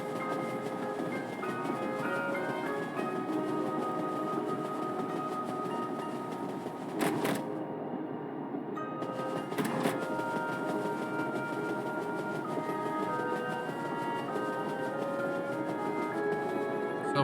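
A train rolling along inside the Paper Mario: The Thousand-Year Door game, with a steady, continuous mechanical rumble and hum mixed with layered music tones, broken by two brief sharp bursts midway.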